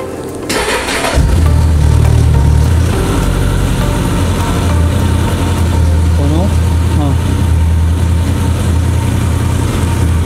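A motorcycle engine cranks and catches about a second in, then settles into a steady, loud, close idle that runs to the end.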